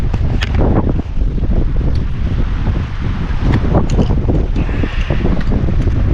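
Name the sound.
strong wind outdoors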